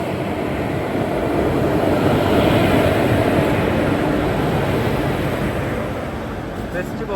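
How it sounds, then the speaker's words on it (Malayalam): Intercity Express train running toward Salem Junction on the line from Jolarpettai, a steady loud rumble and rush of wheels and carriage noise that holds constant throughout, heard from inside the moving train. "ട്രെയിൻ ഇപ്പോൾ സേലം ജംഗ്ഷനിലേക്ക്"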